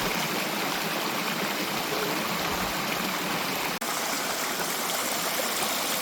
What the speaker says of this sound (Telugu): చూసారా వాటర్ ఎలా పారుతుందో?